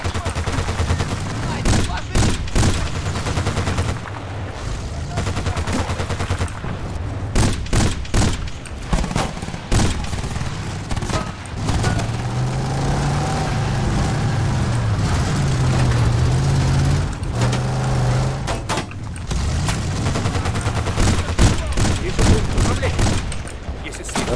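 Rapid bursts of Battlefield 2 gunfire crackle through the clip during a desert mission, with a steady engine drone and a person talking and exclaiming over it.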